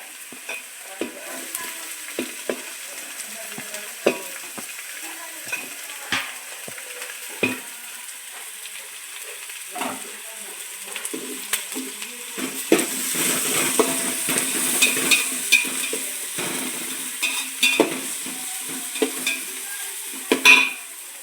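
Finely chopped carrots and capsicum sizzle and fry in a pan for chicken fried rice, with steady stirring and scraping throughout and the frying growing louder toward the end.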